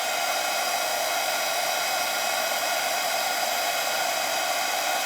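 A hair dryer runs steadily on a painted tissue box. It gives a loud, even, close whoosh of blowing air that does not change for the whole stretch, with no voices over it.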